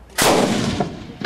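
Gunfire at a reservist training range cracks out in a loud close burst, followed by two fainter shots in quick succession, with no voices heard.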